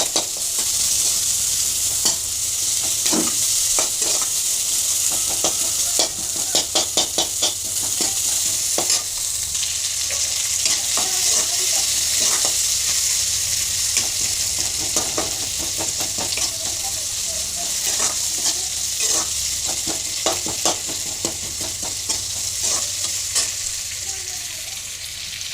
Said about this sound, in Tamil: தக்காளி, வெங்காயம், கருவேப்பிலை எல்லாத்தையும் அதை எடுத்து போட்டு ஒரு ஃப்ரை பண்ணிக்கிறேங்க